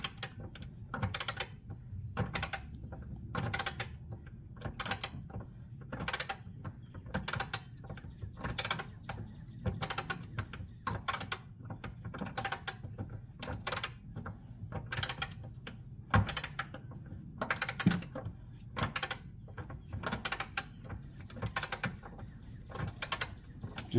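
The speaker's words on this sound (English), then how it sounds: "Just using a torque wrench just because it's the one thing I had that fit my big 3/4 inch sockets." A torque wrench ratchets on 3/4 inch sockets tightening trailer hitch bolts on a 2020 Can-Am Spyder RT Limited, giving repeated quick clicking bursts in a steady rhythm, close and fairly quiet, with no talk.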